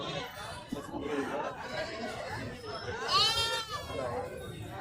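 Young goat kids bleat at a livestock market in Kunnathur, their wavering cries rising clearly near the end over steady crowd chatter and nearby talking.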